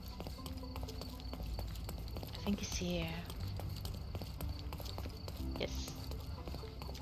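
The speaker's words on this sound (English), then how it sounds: "I found your donkey." Donkey hooves clip-clop at a steady walking pace in a Sherlock Holmes video game, with a person speaking briefly over the footsteps and game ambience.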